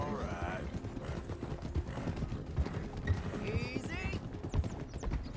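Hooves of a galloping horse clip-clop steadily in the Red Dead game, with a whinny or two and a voice talking over the rhythm.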